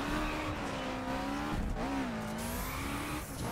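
Engine note of a Subaru in the racing game The Crew Wild Run: a loud, sustained synthetic motor tone that rises and falls with gear changes, a tyre squeal near the end, no talk.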